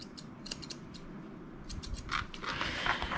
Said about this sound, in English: use my scissors to like just take just a little bit off.